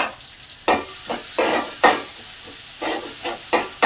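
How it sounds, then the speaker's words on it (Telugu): Sliced onions sizzle in hot oil in a pan for a mutton spleen curry, with a steady frying hiss punctuated by several bright scraping stirs of a spoon, close and fairly loud. "ఇప్పుడు ఉల్లిపాయలు వేసుకుంటాను ఉల్లిపాయలు వేసుకుని బాగా వేపుకోవాలండి"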